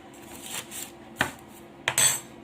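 A spoon is picked up and handled, giving a few faint metallic clinks and scrapes against dishes in a quiet kitchen.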